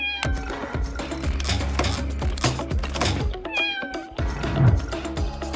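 A stuck kitten meows again and again, high and insistent, close and fairly loud, with clattering handling noises between the cries.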